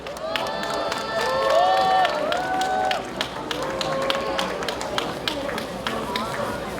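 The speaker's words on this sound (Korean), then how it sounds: "예, 박수 부탁드립니다." Applause from a crowd at an outdoor candlelight rally, sustained clapping with scattered cheers running through the whole stretch, fairly loud and close, with tonal sounds over it early on.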